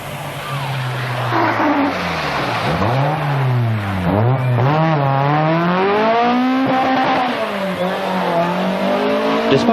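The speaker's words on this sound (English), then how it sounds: "Mikkola is using the four-wheel drive Quattro to good effect" A four-wheel-drive Audi Quattro rally car races through a forest stage at the 1981 1000 Lakes Rally in Finland, its engine loud and close, rising and falling as it revs through gear changes while passing by.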